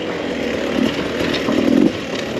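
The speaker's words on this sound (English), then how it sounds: "the power delivery on the Beta 300. It's just a pleasure to ride." A 2021 Beta 300RR two-stroke dirt bike buzzes steadily while being ridden on single track, its engine note rising slightly in brief pulls under throttle, heard up close with constant rasping texture.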